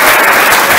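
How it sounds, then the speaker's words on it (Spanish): A brief, loud burst of dense crowd applause at a school ceremony opening the academic year, heard alone with no talk. "También un aplauso fuerte para nuestro padre Rigo"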